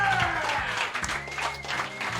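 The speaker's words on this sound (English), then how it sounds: "clap it up for your judges table" A comedy show crowd applauds the judges' table, a busy wash of clapping and cheering mixed with music and crowd noise, all at a fairly even level.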